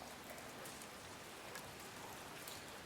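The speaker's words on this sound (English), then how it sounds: "The mountain rises above him and the rain begins to fall." Steady rain pours down on an open mountainside in an audio drama about a shipwrecked Armada sailor, a dense, even hiss of drops with no voices, holding constant throughout.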